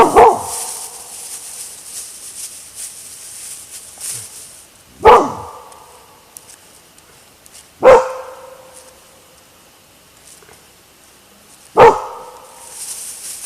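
A dog gives four sharp, loud barks spaced several seconds apart beside a river on a rural fishing trip, with faint outdoor background between barks and no clear talk.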